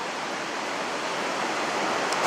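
Water flowing down between rocks in the Oker valley near Romkerhall, a steady rushing hiss heard close, even in level, with no voices over it.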